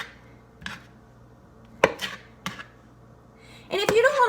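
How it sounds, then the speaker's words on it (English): A knife cuts a banana into small slices on a board, making a few soft, separate taps spaced across a quiet kitchen, with a brief rustle near the end. "We're going to cut our banana into little slices."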